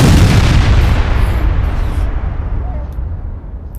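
A video game RPG rocket explosion gives a loud, heavy boom that rumbles and slowly fades over a few seconds, close and dominant with no talk over it.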